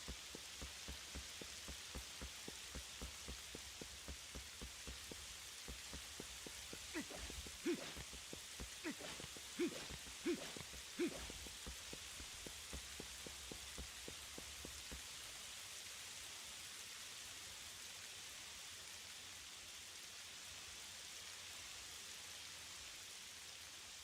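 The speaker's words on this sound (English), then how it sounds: "Raining." Steady rain in The Legend of Zelda: Twilight Princess HD patters down with a soft hiss, a few louder drops or taps standing out midway before it settles back to an even, gentle downpour.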